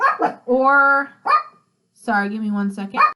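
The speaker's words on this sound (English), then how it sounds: "Sorry about my dog. They've just been crazy this morning, barking and stuff" A pet dog gives drawn-out whining, barking-like cries in two bursts, close and loud, alternating with a person speaking indoors.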